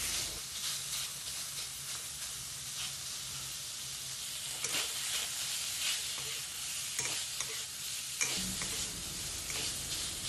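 Pork stir-frying in a pan for a Thai red curry stir-fry with stink beans, a steady close sizzle and hiss broken by repeated scraping stirs of the spatula, no talking.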